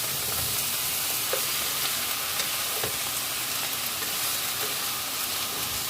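Squid sizzles and fries in a hot pan while being stirred, a constant loud sizzle broken by occasional scrapes and clicks of the utensil against the pan.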